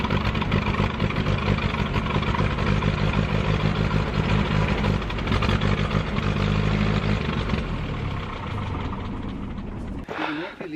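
An old vehicle engine, just started, runs steadily with a loud constant rumble and a voice talking over it for about ten seconds, then cuts off abruptly near the end.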